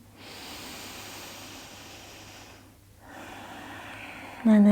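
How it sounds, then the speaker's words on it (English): A long, slow inhale through the nose comes first, then a brief pause, then a steady exhale. The breathing is close and soft, and a voice starts speaking right at the end. "Take a deep breath."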